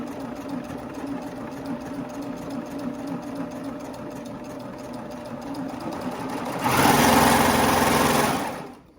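Sewing machine running steadily along a leggings seam with a low, constant motor drone, then surging into a louder, faster whir near the end before stopping.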